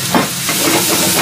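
Chili peppers hit browning onions in a hot pan, giving a loud, continuous hiss and sizzle that holds steady through the whole short burst.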